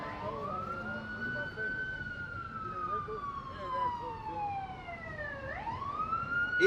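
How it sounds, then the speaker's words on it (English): A wailing emergency vehicle siren sweeps slowly down and then jumps back up on a street in the hood, loud and continuous throughout, with traffic noise beneath it. "Ambulance, fire truck, police car. Every couple minutes they popping up."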